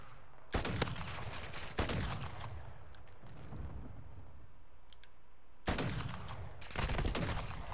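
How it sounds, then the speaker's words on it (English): Hostile airstrike in a first-person shooter game, a run of sharp loud explosive impacts and bursts of gunfire, clustered at the start and again near the end, over a steady rumbling battle background. "Hostile airstrike incoming."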